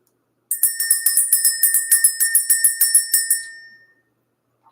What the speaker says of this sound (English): We're going to ring the bell, clear out the energy